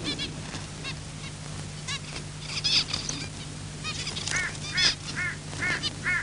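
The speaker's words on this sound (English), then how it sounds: "At the crucial moment, a noisy crow interrupts proceedings." A noisy crow calls repeatedly outdoors in Australian bush where kangaroos feed, a series of harsh, honking cries clustered toward the end, loud and fairly close over a steady low background hum.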